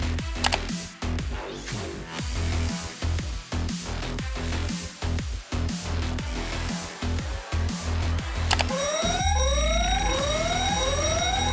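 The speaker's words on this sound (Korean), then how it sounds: "화재 경보기 버튼을 눌러 연구원들이 대피할 수 있도록 하십시오." Fire alarm in a lab safety VR training simulation, a loud pulsing electronic alarm repeating in quick bursts, followed by rising sweeping tones near the end.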